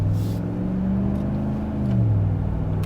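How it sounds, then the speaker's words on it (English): A 2019-2024 Ram 1500 pickup on 33-inch all-terrain tires accelerates, its engine giving a steady low grunting hum that swells slightly as the truck leans into the throttle, heard from inside the cab with no talking. "I love the sound of this motor. You get that grunt when you lean into it"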